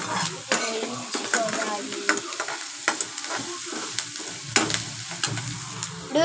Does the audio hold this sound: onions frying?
yes